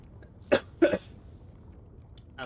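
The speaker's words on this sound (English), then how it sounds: "I'm sorry for the coughing." Two short, harsh coughs in quick succession from someone who is sick, close and fairly loud, followed by quiet.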